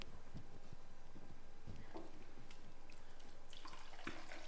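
Water poured into a pan of bitter gourd curry cooking with tamarind, a faint steady trickle and splash heard close by over a constant low background hum, with no talking.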